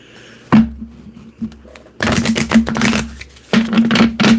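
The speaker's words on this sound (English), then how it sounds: "I'm going to shuffle one time" Tarot cards are shuffled in a few close, loud bursts of riffling and slapping, separated by brief pauses, with a steady low hum underneath.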